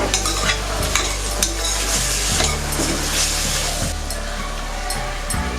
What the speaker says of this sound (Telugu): టూ కప్స్ టమాటా ముక్కల్ని కూడా వేసుకొని ఒకసారి కలుపుకోవాలి తరువాత ఒక హాఫ్ టీ స్పూన్ పసుపు వేసి కలుపుకోవాలి